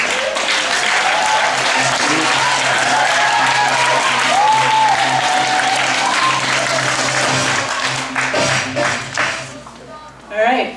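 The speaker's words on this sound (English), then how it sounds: "Applauding." Audience at a spelling bee clapping loudly in a dense, sustained burst, with voices murmuring underneath, then thinning into scattered claps and brief talk near the end.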